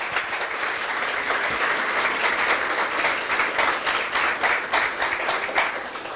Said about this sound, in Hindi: आइए ऐसे यीशु के लिए ताली बजाएंगे हम सब